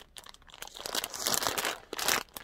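Clear plastic OPP packaging around a clothing item crinkles and rustles close up, in a quick series of crackling handling sounds with no talking.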